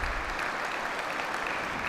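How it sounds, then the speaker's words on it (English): An audience claps steadily through the whole moment, a dense, even patter of many hands at a military change of responsibility ceremony. "would you please give them a round of applause?"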